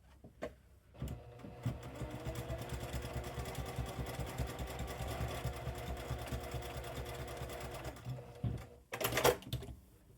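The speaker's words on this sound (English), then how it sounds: "I'm going to just stitch down right along the edge." Sewing machine stitching bias binding along a fabric edge, a fast steady mechanical whir running for about seven seconds between a few clicks and handling bumps, fairly close and alone.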